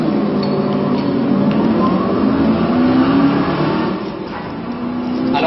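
A Formula 3 single-seater race car, the former car of Nico Rosberg, accelerates on a hill-climb course, its loud engine note rising in pitch with a brief dip and recovery near the end.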